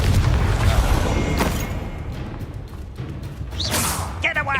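A Confringo fire spell blasts off in the Hogwarts Legacy game: a heavy low boom and whoosh at the start, dense combat noise after it, and a bright swishing burst near the end.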